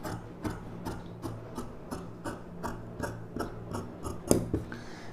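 Scissors snipping through blouse fabric during tailoring, a quiet, regular series of crisp cuts about every half second, close and faint with no talking.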